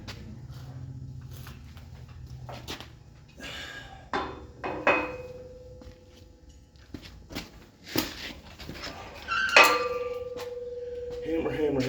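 A big hammer striking a Western plow frame during repair, several sharp metallic clanks spaced irregularly, some ringing on with a sustained metallic tone, close and loud, with faint scuffing between blows.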